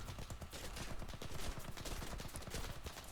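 Rapid gunfire from a WWI-era fighter plane in War Thunder's Great War event, a dense continuous rattle of rounds close by, sustained throughout without pause.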